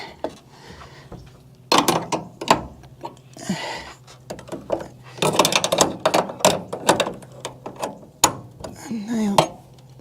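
Metallic clanks, clicks and scraping from a 5/8 wrench working on a nut, irregular bursts close by with quieter gaps between them.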